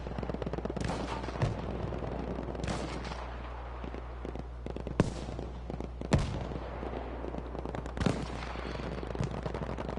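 Sniper rifle shots crack out in a tactical shooter battle, a few sharp isolated reports spaced seconds apart over a continuous rumble of distant gunfire and ambient noise.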